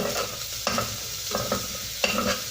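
Onion frying in a pan for a Filipino chicken dish, a steady close sizzle broken by three or four scraping stirs of a utensil, with no talking.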